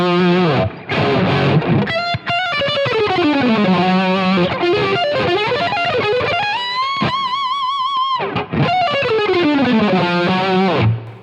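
An electric guitar played on its neck single-coil pickup through a Pod Go distortion tone, delivering fast neoclassical runs and sustained bent notes. The playing is loud, continuous and heavily saturated, with no voices.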